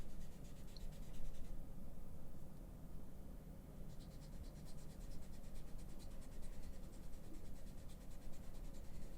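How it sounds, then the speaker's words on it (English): Blending stump rubbed along the grain of drawing paper to push graphite in, a continuous soft dry scratching and scraping that runs steadily throughout, close and fairly quiet. "You push the graphite in, and this is what happens when you stamp along the texture of the paper"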